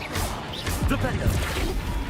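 A Flipendo spell cast in Hogwarts Legacy, a sharp whooshing burst followed by a crashing smash, close and loud, mixed with a voice calling out during the cast.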